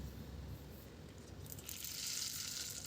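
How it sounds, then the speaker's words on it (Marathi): Mustard seeds sizzle in hot oil in a pan: a steady, quiet frying hiss that swells brighter and louder partway through, with no voices. "एका पॅनमध्ये तेल घेतलेलं आहे अर्धा चम्मच मोहरी घालायची"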